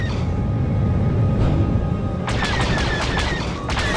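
Starfighter blasters fire in a dogfight in the video game SWTOR, a rapid run of sharp shots breaking out over a dense rumbling engine roar after a couple of seconds.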